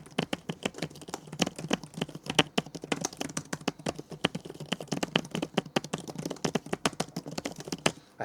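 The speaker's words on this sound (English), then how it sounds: "when you're actually typing, there's a bit of a hollow sound, particularly from this section, the center section of this keyboard here" Fast continuous typing on the MSI Stealth 18 HX laptop keyboard gives rapid, close clicking keystrokes with a slightly hollow, ringing tone, with no voices.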